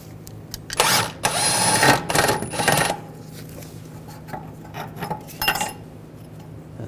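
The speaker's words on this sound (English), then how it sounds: "Take this bolt out, use a" An 18mm socket wrench works a rear upper control arm bolt on a car, giving bursts of metallic ratcheting clicks and clanks between quieter moments of handling.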